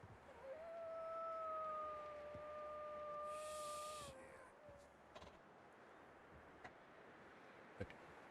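Wolves howl in Red Dead Redemption 2: two long, steady, wavering cries overlap for a few seconds, then fade out, leaving quiet ambience with a few scattered clicks.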